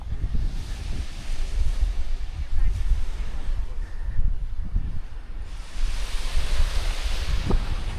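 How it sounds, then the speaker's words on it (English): Ocean surf washing in steadily at a beach in the morning, a broad continuous rush with soft rolling swells, overlaid by wind buffeting the microphone. "getting in the ocean."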